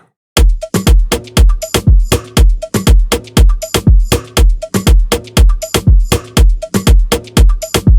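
A loud, driving afro house beat: punchy kick drums on a steady four-count with layered percussion hits and a rolling groove, no vocals.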